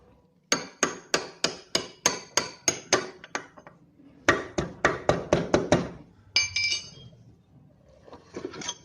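Hammer striking a screwdriver to drive out the wheel axle of a 2012 Activa scooter: bursts of sharp metallic clinking blows in quick, steady rhythm, separated by short pauses, close and clear.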